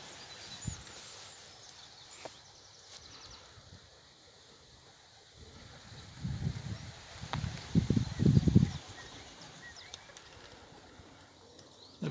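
Racing pigeons in a loft during a one-loft race, with soft intermittent cooing and a burst of nearby fluttering and scuffling movement against a quiet, faintly windy background.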